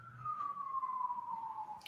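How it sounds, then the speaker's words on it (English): An emergency siren passes outside in a single long, slowly falling wail, moderately distant and steady, with a faint click near the end. "It's very siren-y today, isn't it?"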